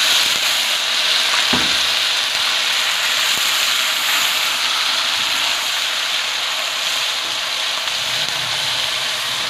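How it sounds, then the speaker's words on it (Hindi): Ginger and garlic fry in a pan with browned onions, giving a steady loud sizzle and hiss close by, with a faint stir or tap now and then and no talking. "अब मैं इसमें अदरक लहसुन डाल दूँ।"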